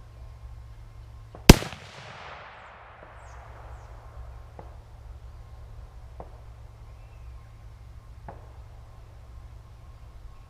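A single sharp, loud rifle report from a Remington 770 chambered in .30-06, fired outdoors while sighting in, with a long decaying echo trailing off, then quiet background with a few faint distant knocks.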